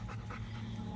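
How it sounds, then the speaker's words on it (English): A neighbor's dog pants rapidly and steadily nearby in a backyard garden, a continuous breathy huffing filling the whole moment. "Neighbor's nasty dog is out again."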